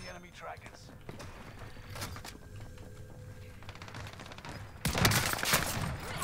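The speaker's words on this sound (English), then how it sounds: "And that's the combat shotgun right there" Combat shotgun fire in Call of Duty Warzone: scattered shots and clattering game noise under ongoing talk, swelling into a louder, dense burst of gunfire near the end.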